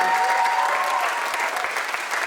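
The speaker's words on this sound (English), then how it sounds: "And one more round of applause." An audience at a high school finale concert claps in sustained, dense applause, loud and even throughout, with a brief tone ringing near the start.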